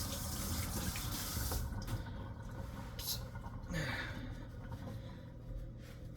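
Water runs steadily from a kitchen tap as hands are rinsed beneath it after cleaning an oven top, a continuous close splashing hiss with a few brief louder gushes.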